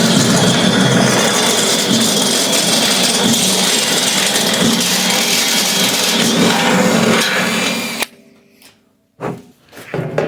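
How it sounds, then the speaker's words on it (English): Step bit drilling a half-inch hole through a custom fuel tank, a loud continuous grinding, chattering drill noise that stops abruptly near the end, followed by a couple of short bursts, close and with no talking. "We'll just do a step bit."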